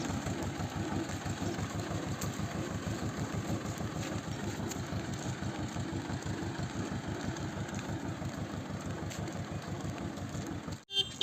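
A steady, chugging tractor engine idles close by, its low rhythmic pulses continuing evenly for several seconds before cutting off briefly near the end.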